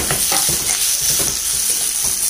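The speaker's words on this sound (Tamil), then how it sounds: "தக்காளியை இந்த வெங்காயத்தை கூட சேர்த்துடலாம்." Tomatoes and onions sauté in a hot pan, giving a loud, dense, continuous sizzle with rhythmic stirring scrapes close by and no talk.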